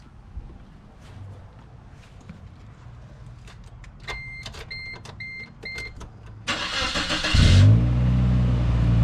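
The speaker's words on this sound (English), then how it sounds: "So I'm going to start up the car." Chimes ring inside a 1998 Chevy Tracker, then the engine cranks and starts, settling into a loud, close rumble.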